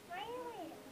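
A cat gives one short rising-and-falling meow, heard clearly and close by.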